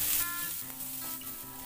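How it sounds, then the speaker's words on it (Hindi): Chopped onions browning with ginger and garlic in a pan over low gas, a steady close sizzle with faint stirring scrapes, no talk. "और इसमें हम डाल देंगे 2 बड़े साइज का कटा हुआ प्याज, और प्याज को भी हम ब्राउन कर लेंगे।"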